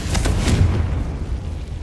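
A Confringo fire spell explodes in the Hogwarts Legacy video game, a loud, deep rumbling boom with sharp bursts near the start that rolls on as a sustained low roar through the whole moment.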